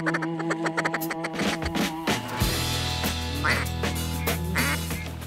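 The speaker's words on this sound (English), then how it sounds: "I'm already hearing ducks in the air" Ducks quack repeatedly at dawn in a flooded Mississippi Delta duck hole, calls overlapping in a dense, lively chorus, some close and loud, others farther off.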